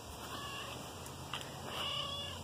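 An outdoor neighborhood cat meows close by, a couple of drawn-out meows over a steady background hum with no talking.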